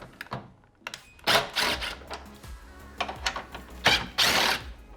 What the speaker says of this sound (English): next up, we're going to remove these two bolts